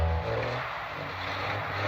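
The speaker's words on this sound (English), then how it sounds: "sound engineer Howard Barrow's Triumph sports car was recorded by producer Barry Murray outside of the Pye studio." Triumph sports car engine recorded as a sound effect in the song In the Summertime, a brief, quiet low engine hum with steady tones under a wash of broadband noise.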